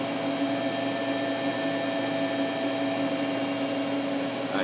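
The sub-spindle of a Mori Seiki ZL-15SMC CNC lathe, holding a collet, spins at 2,000 RPM with a constant whirring hum and faint tonal whine, steady and close throughout.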